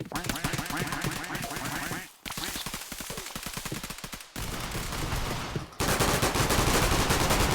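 Video game gunfire at close range comes in dense rapid bursts of automatic shots, loud and continuous, breaking off briefly twice before resuming with a different, harsher weapon tone.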